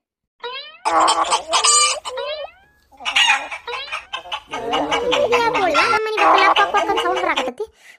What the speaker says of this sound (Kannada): ಯಾವ್ದ ಕೋಳಿ ಕ್ವಾಕ್ ಕ್ವಾಕ್ ಕ್ವಾಕ್ ಕ್ವಾಕ್ ಅನ್ನೋ ಸೌಂಡ್ ಕೇಳಾಕತ್ತಲ್ಲ